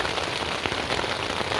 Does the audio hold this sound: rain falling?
yes